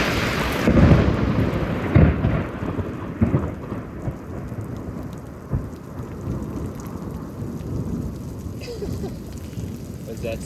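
Thunder rolls through a heavy Houston thunderstorm, deep rumbling peaks over a constant hiss of rain drumming on surfaces, loud and sustained, with a few sharper cracks early on.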